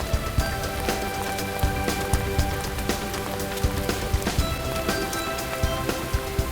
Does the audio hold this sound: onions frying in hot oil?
no